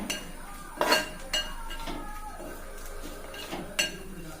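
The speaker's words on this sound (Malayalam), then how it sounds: "നല്ലപോലെ ഇളക്കി കൊടുക്കാവേ" A spoon scrapes and clinks against a metal pot while ginger curry for a sadya is stirred with asafoetida, a few sharp knocks standing out over a quiet kitchen background.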